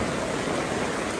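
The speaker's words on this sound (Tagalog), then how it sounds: "Grabe ang ulan dito sa amin." Heavy rain pours down in a dense, even hiss over a rural home and small garden, loud and unbroken, with no talking.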